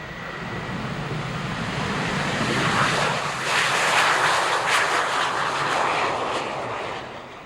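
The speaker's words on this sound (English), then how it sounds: "this is the AV-8B Harrier II Plus." An AV-8B Harrier II Plus jet at an air show roars broadly, swelling to a peak midway and then easing slightly, with a loud sustained whoosh and no voices.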